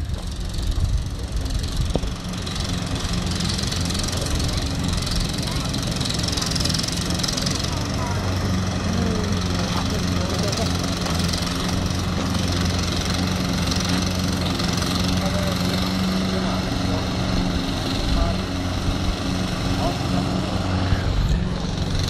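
Lawn mower engine droning steadily while cutting a large lawn at Les Invalides in France, a constant rough mechanical hum with someone talking over it throughout.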